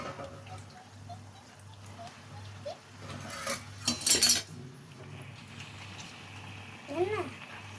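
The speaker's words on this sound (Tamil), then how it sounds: "சிக்கன் சேர்த்துக்கலாம். அள்ளி போடணும்." Chicken is scooped into a pan for chicken gravy, with a brief burst of metal utensil clatter and scraping mid-way over a low background hum, and a voice talks at times.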